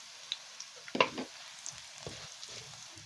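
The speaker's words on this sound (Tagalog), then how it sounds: "Pagkatapos kong maigisa ang sibuyas bawang, isusunod ko naman itong paminta." Onion and garlic sautéing in a pan as pepper is added, with a faint sizzle and a few soft clinks and scrapes near the one-second mark, quiet and close.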